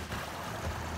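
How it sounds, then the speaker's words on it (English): Fast-flowing creek water rushing steadily over rocks, a continuous broadband wash heard close and alone. "There's really fast water flowing through here."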